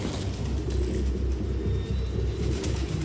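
Pigeons coo steadily in a scene from the video game Detroit: Become Human, close and clear over a low rumbling background, with no talking.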